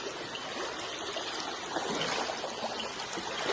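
Rain-swollen stream in a Konkan village creek flows steadily at night, a broad continuous rushing and trickling close by with no voices.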